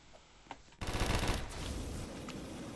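Gunfire in the Roblox game Da Hood, a couple of faint shots and then a loud burst of rapid automatic fire trailing into a sustained noisy wash, heard through game audio without talk.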